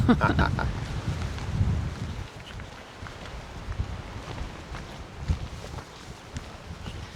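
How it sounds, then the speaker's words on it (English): Gusty wind buffets the microphone on a little gravel trail in Theodore Roosevelt National Park, low rumbling and rushing in uneven surges, loudest at the start and easing later, with faint rustling underneath. "It's pretty windy"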